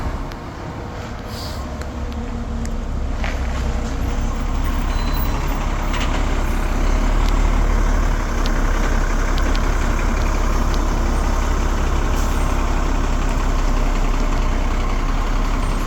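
A school bus idles steadily outside a house in Laguna, a continuous low engine rumble holding at a constant moderate level throughout, with no talk over it.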